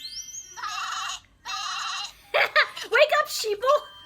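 Cartoon sheep bleating, two long steady nasal bleats followed by a run of quicker wavering bleats, up close and loud, with the voice sounding like a person imitating a sheep.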